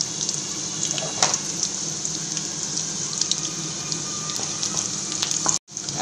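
Curry leaves drop into hot oil with sautéed onions and green chilies in a pan, giving a continuous close sizzle and crackle with a few sharp pops and scrapes.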